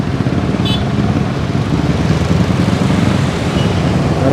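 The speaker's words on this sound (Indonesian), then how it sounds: "RPM-nya naik, kita turunkan." A motorcycle engine on a night ride hums as a steady, close drone under continuous road and wind noise, with no clear rise or drop in revs.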